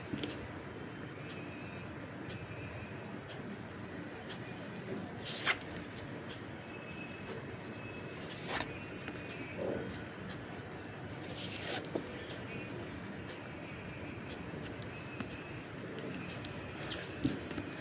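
Tarot cards picked up and shuffled by hand, giving soft papery rustles and flicks with a few sharper snaps near the middle and end, close and quiet against a low room background, with no talking.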